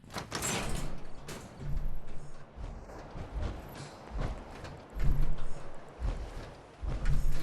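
Sliding door in the video game Fallout 4 grinding open, a series of heavy mechanical thuds and rumbling slides that come in uneven bursts, fairly faint and unaccompanied by talk.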